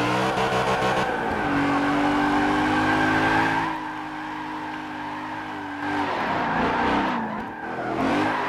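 Tires squeal and skid as a car drifts in the Forza Motorsport 7 racing game, a loud sustained engine drone with screeching tones across several seconds, easing briefly before surging again.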